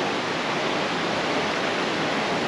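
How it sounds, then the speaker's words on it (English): Flood-swollen creek, now river-sized, rushing through the town of Weston, Vermont: a loud, steady roar of churning water, broadband and unbroken, close by with no voices. "This creek, now river, still rushing through the town of Weston, Vermont."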